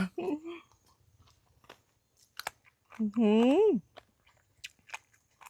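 Someone bites into large, crunchy dried jellyfish, giving a few sharp crunches at the start and scattered faint chewing clicks. A brief hummed vocalization comes in between.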